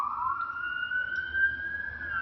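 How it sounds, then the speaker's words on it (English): Police or emergency siren sounding steadily, a single sustained wailing tone that slowly rises and holds, fairly clear over a low background rumble, no talk. "Hear the siren."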